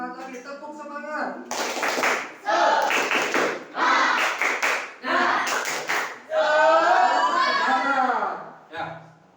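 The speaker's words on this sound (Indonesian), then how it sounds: "Sekali lagi, biar lebih semangat lagi, tepuk semangat." Indonesian classroom students repeat the tepuk semangat clapping routine, clear rhythmic bursts of group claps and chanted words, loud and close, ending with a voice talking.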